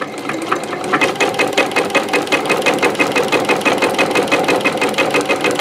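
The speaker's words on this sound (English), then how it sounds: "I love this machine because it does a lock stitch in place." Industrial lock-stitch sewing machine stitching through thick industrial rope for a coiled rope bowl, a steady rapid mechanical chatter running continuously at close range with no voices.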